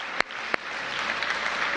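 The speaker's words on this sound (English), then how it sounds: "So give Chancellor Wilson a big round of applause." An audience at a DC public schools event gives Chancellor Wilson a round of applause; two sharp, close claps stand out before a steady wash of clapping continues.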